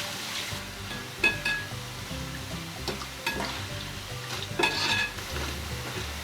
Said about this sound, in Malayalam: ഇതിലേക്ക് 2 പീസ് ബ്രെഡ് ക്യൂബ് പീസിൽ കട്ട് ചെയ്തതാണ്, ക്യൂബായിട്ട് കട്ട് ചെയ്തതാണ്. അതുകൂടെ ഒന്ന് ഫ്രൈ ചെയ്തെടുക്കാം.